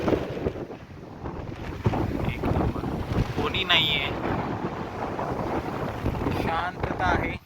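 Strong wind buffets the microphone at a scenic ghat viewpoint on a monsoon bike ride near Kasara Ghat and Igatpuri, roaring steadily throughout while someone talks over it.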